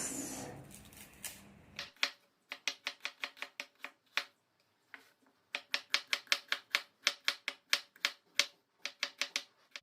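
A kitchen knife chops an onion on a board in a home kitchen, a dense run of sharp, evenly spaced taps near and loud, with a few short pauses after a softer rustle at the start.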